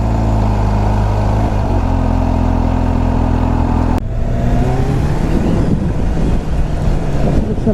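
Kawasaki H2 SX supercharged motorcycle accelerating hard, loud and close, with rising engine tones that break into rough, gusty wind-buffeted roar partway through; no voices.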